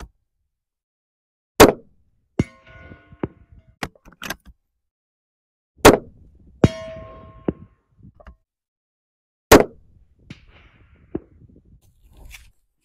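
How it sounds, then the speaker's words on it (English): Three loud, sharp unsuppressed rifle shots from an MRAD, spaced several seconds apart, each followed by a faint metallic ping from a struck steel target and quieter clicks of bolt handling between shots. "let's give the MRAD a go, unsuppressed"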